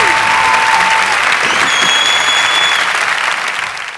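Large crowd clapping for history graduates at a university spring convocation, loud sustained applause that starts to thin toward the end.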